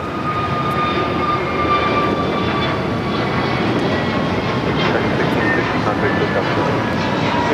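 An airliner takes off from runway 25 right at LAX, a loud, steady broadband jet roar that sustains without a break, with radio chatter faintly beneath.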